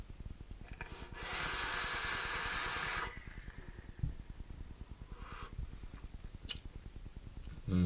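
An e-cigarette vape fires with a steady, close sizzling hiss for about two seconds as a hit of coconut milk strawberry e-juice is drawn, followed by quiet breathing and faint clicks.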